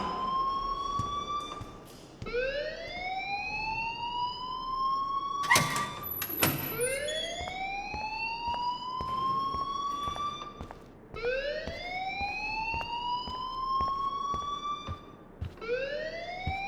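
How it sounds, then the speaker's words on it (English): A school fire alarm in the game Life Is Strange sounds as a repeating rising electronic whoop, several sweeps in a row with brief clanks between, loud and alone. "please turn off that alarm since that's your job"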